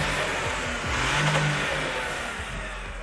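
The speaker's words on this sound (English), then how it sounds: "the 8-into-1 top-mounted exhaust manifold that creates a unique high-frequency sound." A hydrogen-powered V8 engine with an 8-into-1 top-mounted exhaust manifold revs up and eases back, a steady mid-pitched roar with a rising whine across the few seconds, fairly close and loud.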